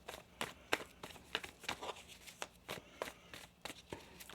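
Tarot cards being shuffled during an Aquarius weekly reading: a run of quick soft riffling and crinkly card slaps in irregular bursts, moderately close and fairly quiet, with no talking.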